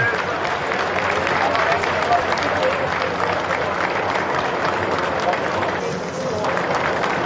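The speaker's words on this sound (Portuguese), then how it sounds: "Os aplausos ao Rei Pelé." Large crowd at Pelé's funeral wake applauding steadily, a dense sustained roar of clapping mixed with crowd voices, loud and continuous throughout with a brief dip near the end.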